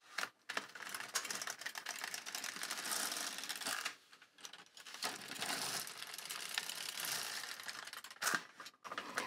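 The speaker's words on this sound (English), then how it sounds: "I'm just going to continue knitting another 3 rows in the same setting with a stockinette stitch." An LK150 knitting machine carriage is pushed across rows of stockinette stitch with two-colour yarn, giving a continuous clattering, ratcheting whir. It pauses briefly between passes and is heard alone.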